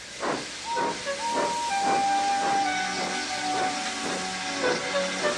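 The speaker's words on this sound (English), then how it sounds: "He didn't have enough steam and came to a stop outside Edward's station." A steam locomotive hisses steadily in a broad wash of steam, with a rhythmic series of chuffing puffs and a faint whistle-like tone running through, close and fairly loud throughout.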